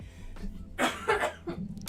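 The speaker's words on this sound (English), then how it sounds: "I'm gonna cough." A person coughs a few times in quick, harsh bursts, close up, with a short breathy sound between them.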